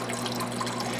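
Water squirts and splashes from a spindle water cooling system onto a workbench, a brief close hissing gush of liquid with steady trickling texture and no speech.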